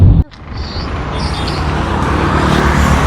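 A vehicle drives along a mountain road on the route from Dehradun toward Joshimath, its steady engine and road rumble continuing close and even after a brief dip at the start, with no talk over it.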